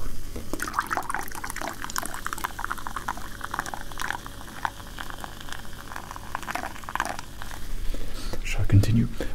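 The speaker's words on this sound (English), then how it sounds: "And then you can pour the rest of your bottle of Coke in there." Coke poured from a bottle into a glass, a fizzy liquid stream with crackling bubbles, close and intimate, under soft whispered talk.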